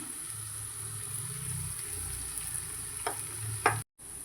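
Fish curry masala frying in oil, a soft steady sizzle with a couple of brief utensil taps, then a sudden short silence near the end, close and with no speech.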